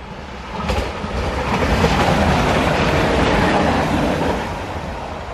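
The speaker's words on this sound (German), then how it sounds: "dass das eine Cantusbahn ist, die da in Richtung Bebra Bahnhof fährt" A Cantus passenger train runs toward Bebra station near the Berliner Kurve, a loud steady rumble with wheel clatter swelling in and holding for several seconds before easing slightly at the end.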